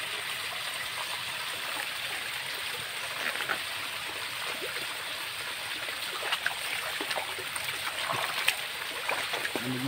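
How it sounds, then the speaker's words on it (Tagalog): A small forest stream flows with a steady, soft broadband wash and occasional faint trickles and splashes near mini waterfalls, continuous throughout with no talk. "Yan, maliit na sapa."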